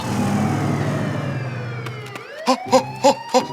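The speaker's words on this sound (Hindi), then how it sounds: "अरे बाप रे, ये तो पुलिस का सायरन है।" A cartoon police siren wails with a falling tone, then breaks into four short, evenly spaced hooting pulses, loud and close with no talk over it.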